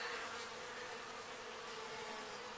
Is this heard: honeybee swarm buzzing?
yes